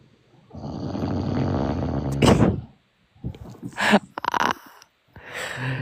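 A long, rough, rattling snore is followed by a few shorter snorts and bursts, loud and close.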